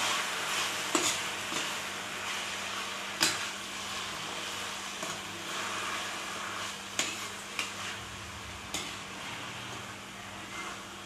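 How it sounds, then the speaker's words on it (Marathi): Fenugreek leaves sautéing in a pan with chilli and salt for a dhaba-style lasuni methi, giving a steady low sizzle broken by several sharp stirring scrapes and taps of a spoon against the pan, fairly faint and close. "हे 2 मिनिटं आपल्याला अशीच मेथी परतून घ्यायची आहे"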